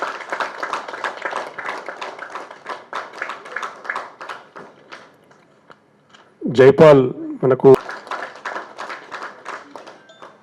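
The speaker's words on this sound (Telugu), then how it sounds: "ఓకే అందరు చప్పట్లు కొట్టండి ఒకసారి" An audience at a meeting claps together in a steady, dense patter for several seconds, fading out before someone speaks briefly into a microphone, after which the clapping resumes.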